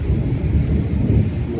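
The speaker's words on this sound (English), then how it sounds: "A thunderstorm coming in" Low rumbling thunder from an approaching thunderstorm rolls continuously, a broad deep roar with steady loudness and no talking.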